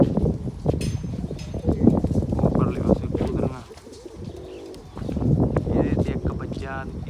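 Pigeons coo softly in short throaty bursts beneath close, continuous talking, with a brief quieter gap where the cooing stands out.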